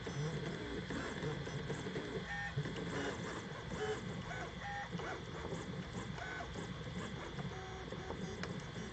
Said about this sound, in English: when you're printing your first benchy on a newly assembled printer